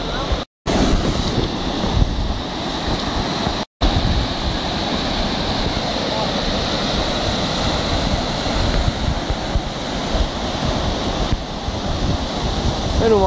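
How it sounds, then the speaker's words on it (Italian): Torrente Longano in flood, a swollen mountain stream roaring loudly and continuously with steady broadband rush, wind buffeting the microphone, two brief dropouts near the start. "questo è il nostro torrente Longano"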